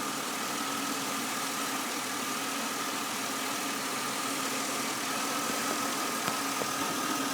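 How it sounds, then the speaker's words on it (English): Engine of a 2002 Impala with a bad transmission running steadily while the gears are shifted, a constant close mechanical hum and drone with no clear breaks. "Go ahead and go in there and just shift the gears."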